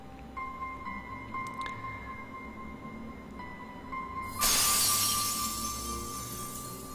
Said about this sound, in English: Broken glass.